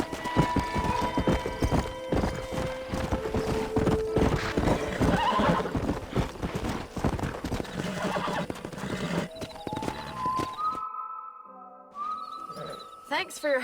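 Horses in the Red Dead Redemption video game trot with rapid clip-clopping hooves and loud neighs and whinnies, with game speech mixed in before everything drops to near silence and some tonal sounds near the end.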